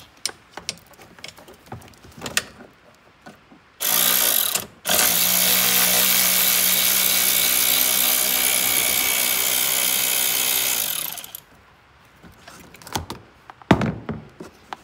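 Loud continuous whirring of a powered ratchet or driver running out a 10mm bolt on an oil cooler, about six seconds long after a brief start and pause, framed by quiet clicks and handling noises.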